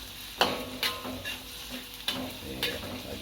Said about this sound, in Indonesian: sekarang saya aduk-aduk